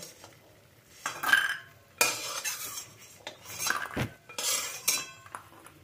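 Metal utensils scrape and clink against a pan while lifting fried lentil dumplings from mustard oil, in several short bursts, with faint sizzling between strokes and no voices.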